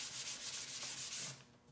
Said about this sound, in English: So I'll sand a little bit more there.